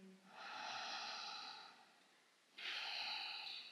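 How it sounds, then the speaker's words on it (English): Deep yoga breathing in a power yoga flow, one long airy inhale through the nose, a quiet pause, then a second strong breath starting abruptly, close and rhythmic with no talking. "This deep inhale for 3 and exhale out for 3"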